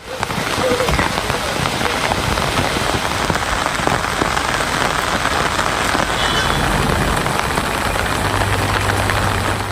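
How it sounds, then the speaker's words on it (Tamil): Steady rain falls in Kodaikanal, Dindigul district, a dense, even patter of drops on surfaces that stays close and continuous throughout, with a faint low hum underneath. "திண்டுக்கல் மாவட்டம் கொடைக்கானலில் விட்டுவிட்டு மழை பெய்ததால் இதமான சூழல் நீடித்தது"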